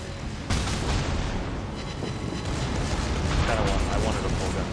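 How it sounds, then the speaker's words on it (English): Battleship main guns fire a salvo in World of Warships Legends, heavy booming blasts layered into a continuous loud rumble of naval gunfire and explosions. "Shoot the guns, please!"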